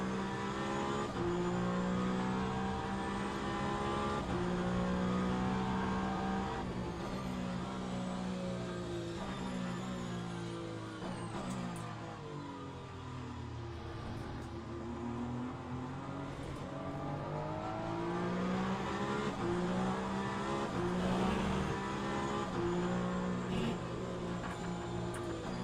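A pack of more than sixty race cars, including an old Peugeot, racing on a rain-soaked track, loud layered engines droning and rising and falling continuously as cars pass nearby, with tyre hiss underneath.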